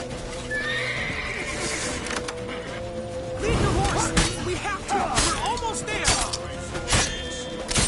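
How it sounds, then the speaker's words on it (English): Horse in the video game The Witcher 3: Wild Hunt, giving several loud neighs and whinnies over clip-clopping hooves, with battle clatter and game voices in the background. "Lead the horse!"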